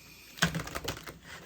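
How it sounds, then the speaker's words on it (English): Tarot cards are shuffled by hand, a short, close burst of crisp riffling clicks lasting about a second in an otherwise quiet room. "I'll shuffle as I talk."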